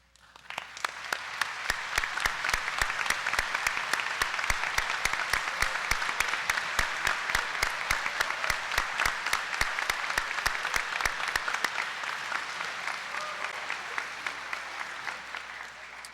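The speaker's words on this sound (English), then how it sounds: "I would invite all 85 honor graduates to please stand for our applause" A high school senior celebration audience gives long, steady applause for 85 honor graduates, dense clapping with a few sharp individual claps standing out near the recorder, fading slightly toward the end.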